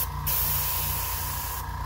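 An airbrush sprays paint onto custom shoes for a burn effect, a loud continuous hiss of compressed air that starts and stops abruptly.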